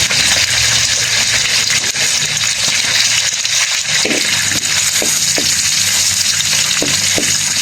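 Onion and black pepper frying in a pan after browning, a loud dense sizzle that runs the whole time, with a few faint stirring knocks near the end and no speech.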